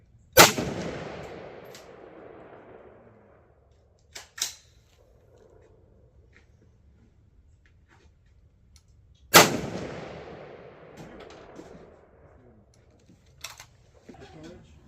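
Two loud rifle shots from a scoped rifle at an outdoor range, one at the start and another about nine seconds later, each with a long rolling echo, plus a few fainter clicks and knocks from the rifle between them.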